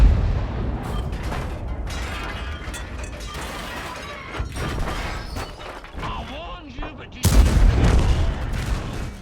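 Gunfire from a Bisonte C45 tank in a video game, heavy mechanical clanks and shot bursts with a loud blast near the end, under continuous talking.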